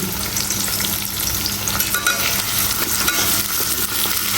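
Garlic, onion and salt frying in a hot pan, giving a loud, continuous sizzle and crackle with occasional stirring scrapes, close up and steady throughout, with no voices.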